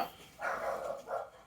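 A dog gives two short, muffled barks from another room, fairly faint and slightly distant, indoors at home.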